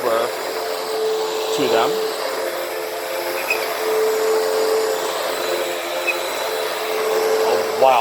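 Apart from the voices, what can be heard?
Hoover Windtunnel vacuum cleaner vacuuming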